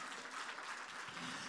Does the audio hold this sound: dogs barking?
no